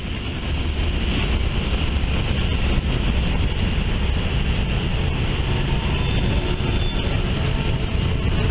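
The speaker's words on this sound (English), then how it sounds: "most BNSF freight trains have to require a back-end helper. And there is one on the back end." A BNSF freight train with a helper locomotive on its rear rolls steadily past on the mainline, a loud, continuous rumble of wheels on rail with faint high squeals over it.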